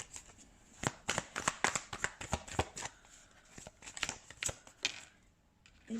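A deck of tarot cards being shuffled up close, a quick irregular run of soft crisp riffles and slaps that fades toward the end, with no talking.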